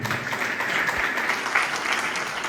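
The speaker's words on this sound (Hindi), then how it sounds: "जोरदार तालियां आपके लिए" Loud, sustained applause from an audience at a business seminar for a wellness company, steady clapping throughout with no speech over it.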